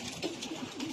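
Domestic pigeons cooing close by, a few soft repeated low coos in short rhythmic bursts over light background noise, with no talking.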